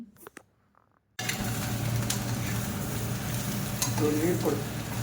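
Chicken pieces taken out of sambar fry in a pan with a loud, close sizzle and stirring that starts abruptly after a quiet second and then keeps on steadily.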